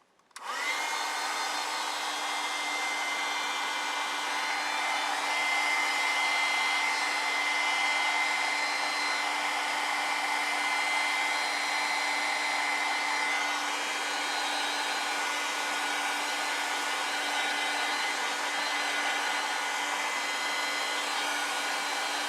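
Hair dryer drying a watercolor painting of apples, a loud, continuous motor-and-airflow whine with a steady tonal hum, running unbroken for over twenty seconds with no talk.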